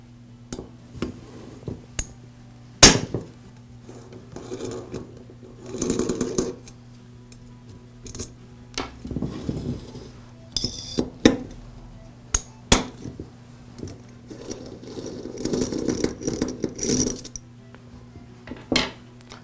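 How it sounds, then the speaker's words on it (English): Small metal clinks, taps and scrapes of tools and screws come from an Echo string trimmer engine as its cylinder is unbolted and lifted off the crankcase, in scattered bursts over a low steady hum. "Now I remove the cylinder. It's secured with 2 screws"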